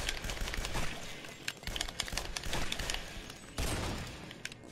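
Rapid gunfire in the video game Guns Gore and Cannoli, where a shotgun is in play, dense and loud with overlapping bursts and sharp transient blasts across the clip, with no talk.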